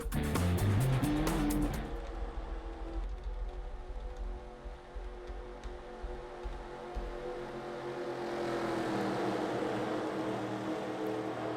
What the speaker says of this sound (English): The pace car pulls into the pits.